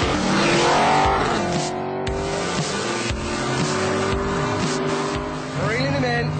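A Vauxhall VXR8 Maloo ute accelerates hard, its loud engine rising steadily in pitch through the gears and holding near and strong throughout, with no break in the roar.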